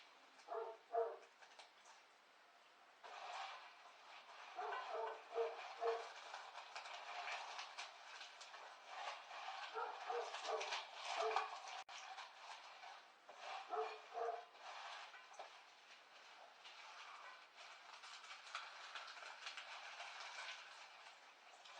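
A dog barks in scattered short bursts over a long stretch, faint and somewhat distant, under a thin continuous background rumble. No voices.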